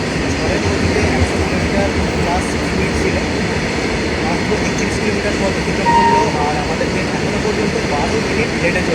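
Sahid Express train pulling out of Kamarkundu station on its Howrah to Rampurhat run, a steady close rumble of carriages and track noise filling the whole stretch, with a brief higher tone partway through.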